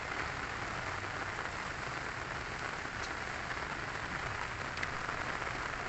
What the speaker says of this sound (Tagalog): Umuulan, palakas ng ulan.